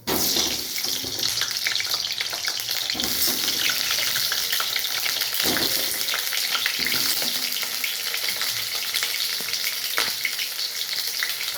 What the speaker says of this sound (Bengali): এই 6টা আলু এখন দিয়ে দেব,